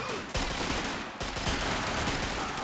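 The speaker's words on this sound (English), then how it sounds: "They're shooting out the windows." Dense gunfire as soldiers shoot out of house windows in a strategy video game, a sustained crackling fusillade with a few sharper bursts, loud and continuous throughout.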